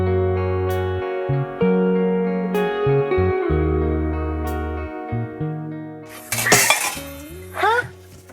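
A cooking pot clatters and clangs as it falls over, a burst of metallic rattling near the end, following sustained ringing tones and a thud.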